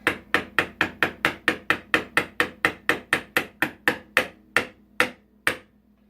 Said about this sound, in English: now I'm just going to barely tap that